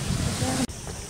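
Roar of the Ouzoud waterfalls in Morocco: a steady, broad rushing wash of falling water heard close, with a brief dropout near the end and faint voices underneath.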